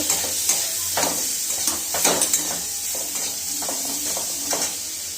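Spices and chopped tomato sauté and sizzle in a pan for a bread chicken roll, a constant frying hiss broken by repeated scrapes and taps of a spatula stirring against the metal.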